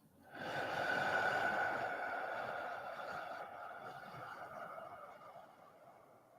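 A slow, soft exhale during meditation, a long airy breath out that fades gradually, close and quiet, with no talking.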